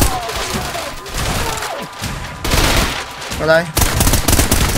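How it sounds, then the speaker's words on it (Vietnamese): Rapid gunfire rattles in bursts and single heavy shots in the video game Trepang2, loud and close, with a brief spoken voice between volleys. "Bắn gần thì sử dụng súng này ok hơn nha."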